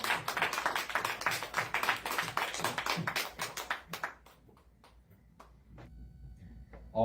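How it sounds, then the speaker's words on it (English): Audience applause for two speakers at a coalition meeting, a dense burst of clapping at moderate level that thins out into scattered claps and fades toward quiet. "can we get one more round of applause for both of our speakers today?"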